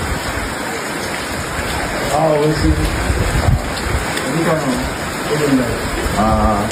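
Rain pours steadily outdoors, a constant hiss under people talking nearby, with a loud wash that continues throughout.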